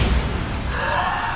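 The Bombarda blasting spell goes off in Hogwarts Legacy with a loud, deep boom, and a hissing, crackling burst rolls on for over a second.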